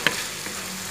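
Chicken masala sautéing in oil for a coconut-milk chicken dish gives a steady close sizzle with a single utensil tap at the start.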